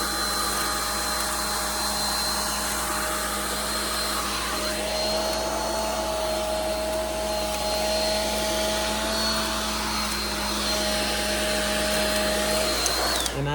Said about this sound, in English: Make sure your dryer is on high.